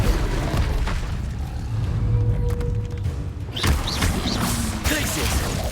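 Incendio fire spell cast in Hogwarts Legacy: a roaring, booming fiery burst with thuds, set in dense game ambience, with sweeping whooshes toward the end.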